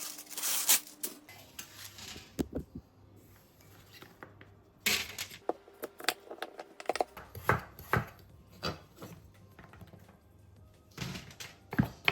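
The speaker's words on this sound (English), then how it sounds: "cut them up into really small pieces like chips" Knife chopping sweet potatoes into small chip-sized pieces on a board, rapid clustered chops in bursts with short pauses, close and crisp.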